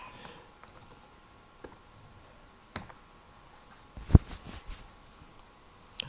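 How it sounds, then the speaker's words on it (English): Sparse computer mouse clicks while working in CAD software, a few isolated clicks spread out with a sharper, louder one near the middle, over faint background hiss. "yeah, left click on the cylinder"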